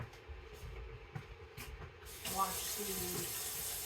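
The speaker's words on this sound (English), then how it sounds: "So I'm just gonna wash my hands." A kitchen tap runs while hands are washed during cheesemaking, a sudden burst of running water partway through after quieter handling sounds, then a steady close splash to the end.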